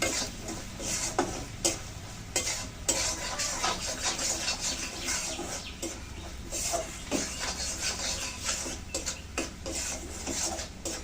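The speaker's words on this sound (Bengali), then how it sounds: "লাল করে ভেজে নেবো নারকেলটা।" Grated coconut fries in a pan, heard as a moderate sizzle broken by frequent scraping and stirring strokes in an uneven rhythm, with no talking.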